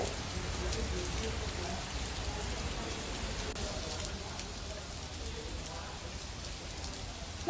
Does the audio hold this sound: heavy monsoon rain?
yes